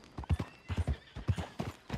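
Horse hooves clip-clopping in Red Dead Redemption 2, a steady rhythmic series of soft close hoof falls at walking pace, with faint background ambience.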